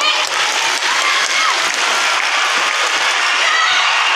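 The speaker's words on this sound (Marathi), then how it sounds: "या ठिकाणी प्रात्यक्षिक सादर टाळ्या त्यांचा उत्साह वाढवा" An audience at a school karate demonstration by state-level karate players applauds, a dense, steady burst of many hands clapping close by, sustained without pause for the whole stretch.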